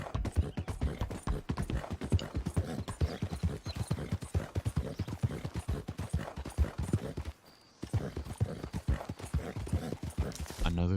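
Horse hooves clip-clop steadily in Red Dead Redemption 2 as a rider travels on horseback, a fast, even rhythm of close hoofbeats that pauses briefly partway through and then resumes.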